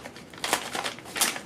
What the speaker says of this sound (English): I'm just going to use some scissors to open it up